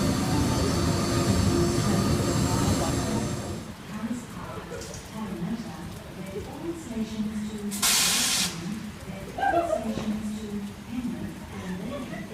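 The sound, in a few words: electric passenger train passing station platform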